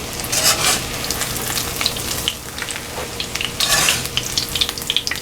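Jack mackerel frying in a pan over medium-high heat, a steady loud crackling sizzle with bursts of spattering, heard alone.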